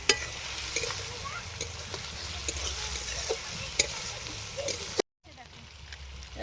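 Garlic paste fries in a pan at a family winter picnic and is stirred steadily, with scraping and a soft sizzle. A brief dropout comes near the end.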